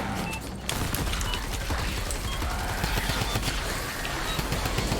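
A Typewriter gun fires in Fortnite Save the World, a dense, continuous rapid-fire rattle of clattering mechanical shots that runs for the full stretch at steady loudness.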